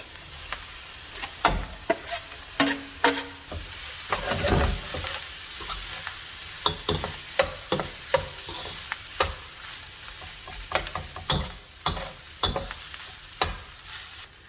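Day-old rice frying with garlic in a pan, a continuous close sizzle punctuated by sharp scraping knocks of a utensil stirring and tossing at irregular intervals, with no talking.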